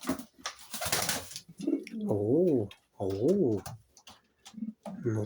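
Silesian crested pouter pigeon, a male chasing a hen on eggs, gives several close, deep rolling coos in bursts separated by short pauses, with faint clicks between.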